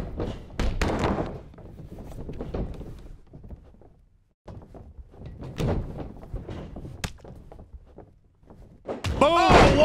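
Heavy thuds from an elbow strike in a WWE 2K wrestling video game, a few sharp impacts heard amid excited commentary from game announcers talking throughout.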